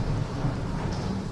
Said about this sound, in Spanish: Está lloviendo ahorita, estamos escuchando los truenos, los relámpagos